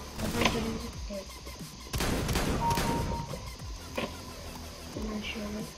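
Shotgun blasts in a CS:GO deathmatch, several sharp reports spaced irregularly amid game noise, with someone talking over them.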